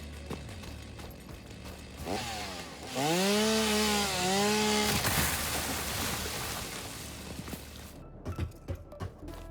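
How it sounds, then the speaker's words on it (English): A chainsaw in the video game Satisfactory cuts wood, revving into a loud, rising mechanical whine over a steady rough buzz and then settling back, with no talk over it. "I didn't know that they added modes to chainsaws."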